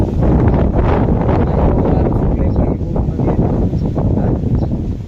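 Strong wind buffets the microphone outdoors, a loud continuous rumbling roar that barely changes for the whole stretch.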